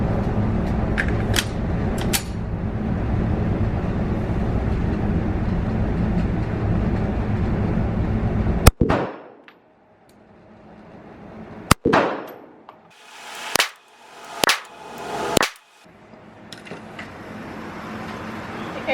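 Several sharp gunshots from a SIG 365 pistol ring out at a range, each a loud crack with a brief echo; a few irregularly spaced shots follow a stretch of steady background noise.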